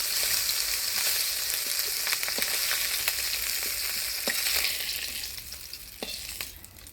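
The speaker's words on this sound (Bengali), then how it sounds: "মাছগুলো ভালোভাবে ভেজে নিলাম" Bujuri tengra fish fry in hot oil with a steady, loud sizzle and crackle, broken by a few sharp pops and spatula scrapes; the hiss eases slightly toward the end, with no voices.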